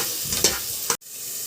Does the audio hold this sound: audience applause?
no